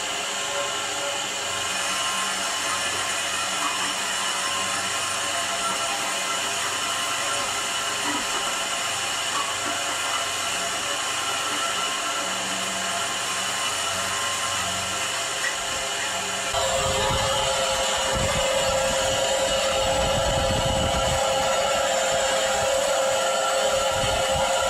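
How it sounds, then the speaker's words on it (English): A small disc grinder mills crushed ore down to powder for gold recovery. It makes a continuous close whirring drone that never stops, and the sound turns rougher and heavier for the final several seconds. "now we can put it through our little disc grinder and get it all broken up back down to powder"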